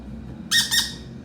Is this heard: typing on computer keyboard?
no